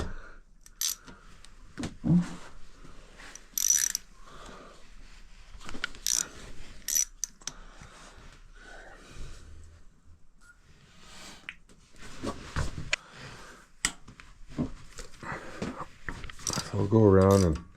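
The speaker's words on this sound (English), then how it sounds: "So I'll go around and" Ratchet wrench backing out loose valve cover bolts on a 1975 Honda XL250 motorcycle engine: bursts of close clicking ratcheting scattered through the clip, with clinks of tools and metal and intermittent talk.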